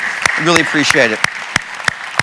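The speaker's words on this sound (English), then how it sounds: "give yourself a round of applause" Audience at a New York leadership summit claps in scattered, sharp bursts while someone speaks over the applause at close range.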